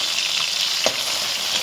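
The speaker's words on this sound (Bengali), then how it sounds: "আমি প্রথমে মাছটা ভেজে নিচ্ছি।" Fish sizzling steadily in hot oil in a pan, a close, continuous bright hiss with a brief stir or turn partway through.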